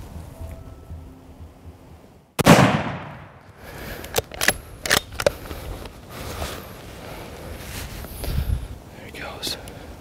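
A single loud, sharp rifle shot cracks out at a buck during a November deer hunt, after quiet whispering, followed by rustling movement and low murmured talk.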